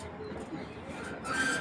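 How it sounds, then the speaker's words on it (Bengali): Soft low cooing of Giribaz flying pigeons in a coop, faint and close, with a brighter rustle at the end. "এগুলো হলো আপনার খেলার কবুতর, আর উড়ার জন্য এগুলো রাজা ভাই।"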